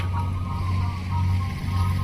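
A ship cutting through sea waves, a steady low engine drone mixed with rushing water and wash, loud and continuous, with no voices.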